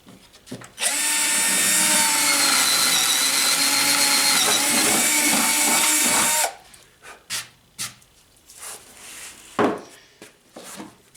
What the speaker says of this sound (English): Need to drill my starter hole.